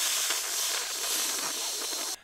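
A person's voice imitates an angry cat with a long, sustained hiss on a breathy syllable, steady and close for about two seconds before cutting off sharply.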